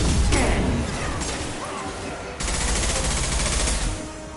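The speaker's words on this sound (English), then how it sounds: "Taking heavy fire." Heavy gunfire in the video game Mass Effect 2: loud sustained automatic bursts with rapid repeating shots and mechanical clatter, continuous across the moment with a brief dip before resuming strongly.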